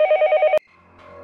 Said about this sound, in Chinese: 电话又响了，